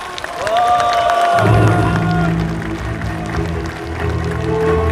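A crowd applauds baritone and soprano singers at an outdoor Korean patriotic cultural festival for the Korean War anniversary; the clapping rises as the last sustained notes fade, with broad crowd noise beneath.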